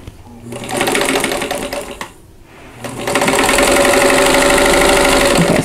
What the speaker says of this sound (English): So I'm going to sew one, make sure I've got it right, and then I'll chain stitch the others.